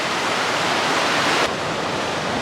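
A creek flows across a trail on the Pacific Crest Trail, a dense, steady rush of water close by with no voices, dropping slightly in level partway through.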